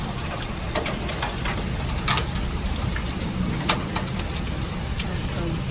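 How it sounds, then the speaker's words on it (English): Hail falls steadily in a dense, continuous patter, with sharper scattered clicks as stones bounce off surfaces nearby, while birds call faintly in the background. "Look at the hail right there."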